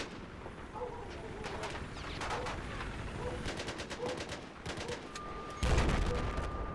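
Missiles firing during a 2v2 helicopter duel in a video game: rapid bursts of sharp cracks and launches in quick clusters, with a heavier thump near the end, moderately loud.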